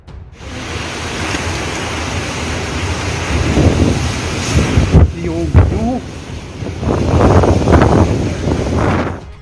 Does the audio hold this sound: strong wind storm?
yes